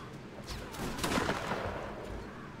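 Cannon or mortar fire in the Mount & Blade Napoleonic Wars game during a siege, a fairly faint cluster of overlapping distant shots swelling at the middle and fading, with no voices.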